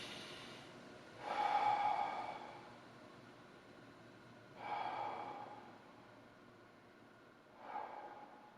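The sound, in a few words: deep breathing during neck posture exercise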